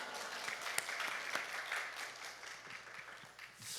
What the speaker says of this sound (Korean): 할렐루야로 하나님께 영광의 박수 올려드립니다